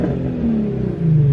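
A Nissan 350Z engine revs up nearby, a loud steady exhaust drone rising and falling in pitch, with the build briefly dipping before climbing again; the pops are not clearly distinct.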